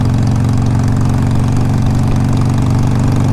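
A 2007 Harley-Davidson 883R fuel-injected V-twin with 32,000 miles runs steadily and loud, a close, continuous low rumble with an even throbbing beat and no voices.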